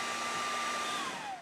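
A blender blitzes tuna sauce with lemon juice for a beef tonnato: a loud, steady high motor whir running close, easing off slightly in pitch toward the end, with no voices.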